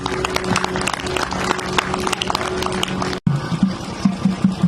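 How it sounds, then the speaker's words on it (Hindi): An audience at a Republic Day gathering claps steadily, a dense patter of hands with a brief cutoff before clapping resumes along with a voice. "तो मैं आप इनके लिए तालियां बजाता हूँ"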